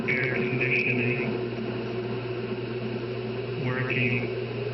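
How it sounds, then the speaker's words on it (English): Air conditioning runs steadily in a house during very hot weather, a constant low hum and mid-range whir filling the whole stretch, with a faint higher chirp briefly rising above it. "I hear the sound of air conditioning"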